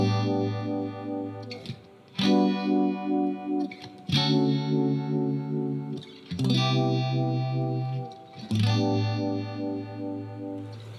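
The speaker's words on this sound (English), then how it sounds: "there are times that I actually think the Univibe starts to sound a little too prominent" Electric guitar played through a Univibe effect, a series of sustained chords each struck and left to ring with a throbbing, swirling modulation, repeating in a steady rhythm with short gaps between, loud and close with no talking.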